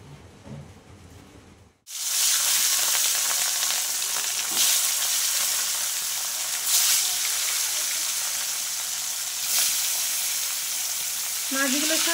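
Marinated fish drop into hot oil in a wok and sizzle loudly, a sudden onset after a quieter moment, then a sustained crackling hiss with a few brief surges.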